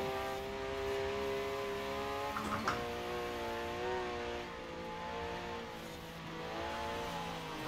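A 1966 Porsche Carrera 6 racing in the rain in Forza Horizon 4, its engine a steady droning whine with shifting pitch and a brief bump midway, continuous and fairly close.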